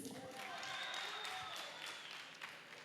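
Audience clapping and booing at a student policy conference, a sustained crowd noise with scattered claps running throughout.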